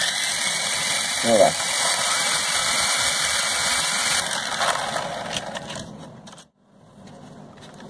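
A small drone motor, jammed by dirt, hums steadily with a high whine for several seconds, then cuts off abruptly; a brief spoken remark occurs early on.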